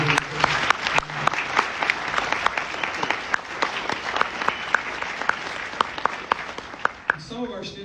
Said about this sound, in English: Would you give them a round of applause for being here?